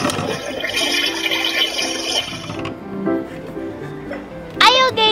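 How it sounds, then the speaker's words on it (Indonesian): A toy toilet in a large Barbie dollhouse flushes with a steady rushing, gurgling water sound that fades partway through. A voice talks over it, with a sharp squeaky sound near the end. "Selesai pup, kita siram dulu biar gak bau pupnya."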